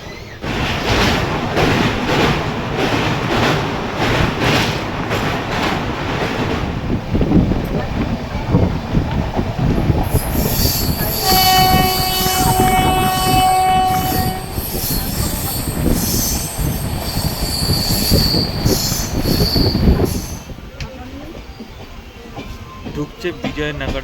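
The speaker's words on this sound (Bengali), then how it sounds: "সেটা হচ্ছে করমণ্ডল এক্সপ্রেস।" The Coromandel Express on the Howrah–Chennai line rumbles past at close range, its wheels letting out a long, high, ringing squeal midway over the loud continuous roar of the cars, with a voice talking at times.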